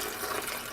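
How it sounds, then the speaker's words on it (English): Water poured into a blender jar for a green smoothie makes a steady, close rushing splash that fills the whole short moment without any talk. "All right, so I'm going to add the water."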